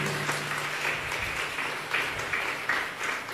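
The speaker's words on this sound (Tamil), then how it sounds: "நல்லா கைத்தட்டுங்க." A church congregation claps hands together at a fairly even level, a broad crowd of palms with a few sharper individual claps popping out, and no one speaking over it.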